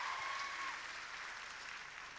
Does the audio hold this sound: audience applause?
yes